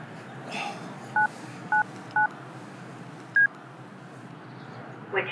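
A caller keys an emergency number on a mobile phone: four short, evenly spaced keypad beeps over steady background hiss, then a fifth tone a moment later, close and clear.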